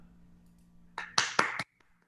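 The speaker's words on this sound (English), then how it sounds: "Here you're getting some applause. Give him a hand." A few scattered hand claps sound in quick succession during an ISKCON ashram talk, three or four sharp, close strikes after a near-silent start, then fading out into quiet.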